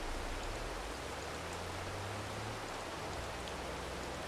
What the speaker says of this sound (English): Rain, quit, please.